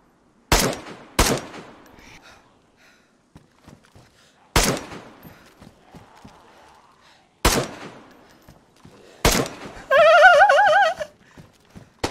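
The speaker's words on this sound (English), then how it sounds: "That's me shooting. I'm blasting off." Gunfire in the DayZ video game: several sharp, loud single shots spaced a few seconds apart, followed by a sustained burst of rapid fire near the end.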